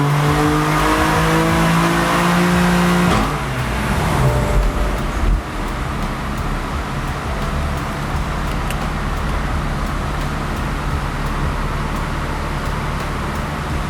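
BMW F80 M3 with a CSF charge air cooler on a dyno, engine screaming up through the revs for a few seconds then cutting off into a loud roaring, whooshing rundown, no talk.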